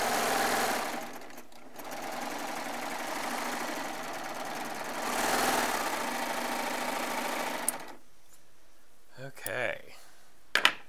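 A Baby Lock serger stitches a seam through jelly roll and charm square fabric, whirring steadily and fairly loud for about eight seconds, then stopping, leaving small handling clicks.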